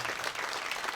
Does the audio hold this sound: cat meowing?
no